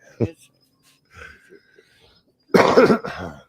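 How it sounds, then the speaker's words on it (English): A short cough, then a pause with faint rustling, followed by a louder, harsher burst of coughing nearby. "all these coughs and stuff"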